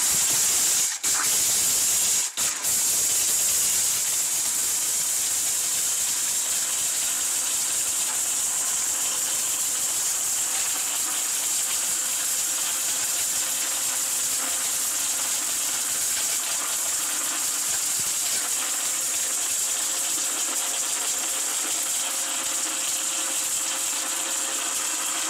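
An electric blender grinding hard turmeric pieces roars up after a couple of brief knocks and runs as a loud, continuous, harsh whirring grind that stays steady and close for the rest of the stretch.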